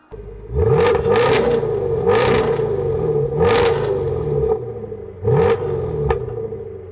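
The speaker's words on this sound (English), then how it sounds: "Obviously, it's got our sports performance exhaust system" V8 van fitted with a sports performance exhaust system revs up close and loud in several sharp bursts with a low rumble between them, each throttle blip rising and falling.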